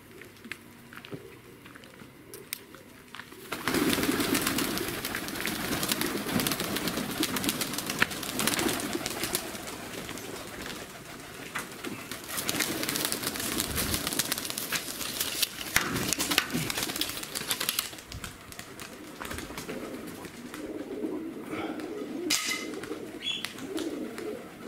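Tumbler pigeons in Tbilisi, Georgia, flown during their moult, coo repeatedly close by while wings flutter and patter in bursts, the sound rising after a quiet start and continuing steadily.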